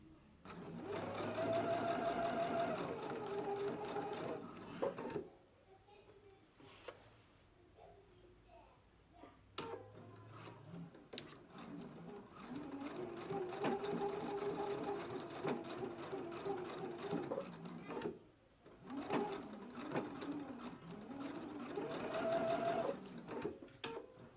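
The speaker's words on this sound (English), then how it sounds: "I'm going to stitch about 1/4 inch" A sewing machine stitches a quarter-inch seam on a jumpsuit in three bursts of rapid mechanical whirring, separated by short pauses, with a voice speaking quietly between and over the runs.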